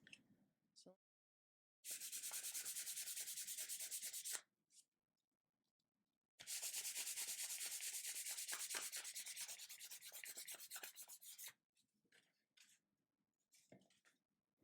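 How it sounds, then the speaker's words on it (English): Fine grit sandpaper rubs across a wooden cutting board in two long, steady bursts of dense scratchy strokes, close and fairly loud, with brief quiet gaps and a few short scuffs between. "So I'm taking this fine grit sandpaper because I still see a lot of the black here and inside there."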